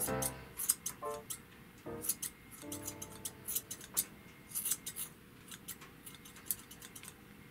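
Scissors trim the fur on a Japanese Chin dog's feet during grooming, making a run of quick, close metallic snips in an irregular rhythm. No one talks over them.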